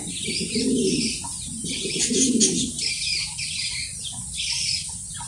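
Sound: Mundian pigeons cooing at farm

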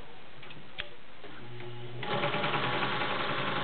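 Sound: vintage Pfaff 130 sewing machine stitching chiffon

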